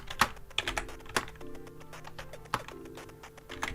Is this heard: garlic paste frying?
no